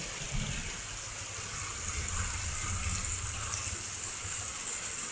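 Storm rainwater flows steadily over a driveway covering a washed-out ditch, a continuous rushing gush at moderate, even loudness with no voices.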